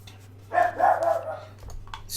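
A dog barks a few times in short bursts, set back in a room over a steady low electrical hum, with a faint voice nearby.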